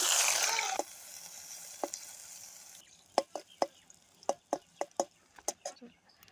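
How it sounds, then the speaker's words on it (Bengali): Chopped onion hits hot mustard oil in a heated kadai with a loud, bright sizzle that quickly dies down. A run of sharp, separate spatula knocks and scrapes follows against a quiet background. "পেঁয়াজটা ভাজা ভাজা হয়ে গেছে"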